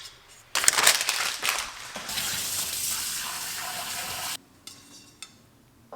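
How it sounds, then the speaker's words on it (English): Running water and a rushing, sloshing wash as brown rice is rinsed in a container, a loud continuous spray lasting several seconds before dropping off to quiet handling sounds. "Use another container to wash the rice. I'm gonna wash the rice in this."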